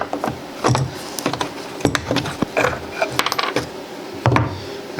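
Someone loosens the square nut holding a leg onto a mid-century dining table, making a series of short, close metallic ratcheting clicks and wrench knocks in an irregular rhythm.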